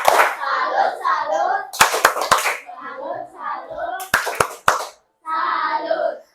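A classroom of children claps in short, sharp rhythmic bursts, a patterned cheer-clap repeated twice, with someone speaking before, between and after the claps.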